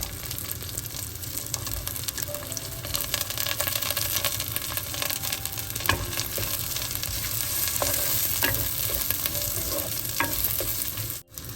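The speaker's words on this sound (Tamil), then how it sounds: "வெங்காயம் சேர்ப்போம்." Onions sizzle steadily in a hot oil-filled pan while being stirred, a dense continuous frying hiss with occasional scrapes, close and fairly loud throughout, cooked as part of a karuvadu (dried fish) sothi lunch.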